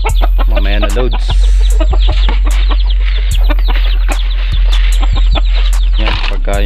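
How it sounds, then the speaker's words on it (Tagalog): A flock of chickens clucking loudly at close range while waiting for feed, busy overlapping clucks and squawks over a constant low hum, with sharp knocks scattered throughout. "Ito na yung mga manok natin."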